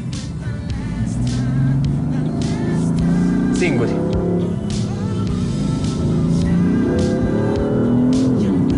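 A 2014 BMW M3 engine roars and revs up repeatedly, its pitch climbing with each acceleration, while someone talks over the noise.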